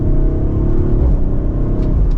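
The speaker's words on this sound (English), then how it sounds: "being able to hear that exhaust just a little bit louder" A 2023 Audi RS5 Coupe exhaust drones loud and close with a deep, steady engine rumble and slight revving, no talk over it.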